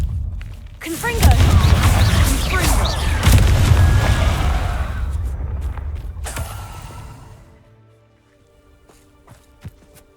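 A Confringo blasting spell goes off in Hogwarts Legacy, near the entrance to a mine: a loud explosive boom followed by a long, dense rumble of debris that gradually fades to near silence with a few faint clicks.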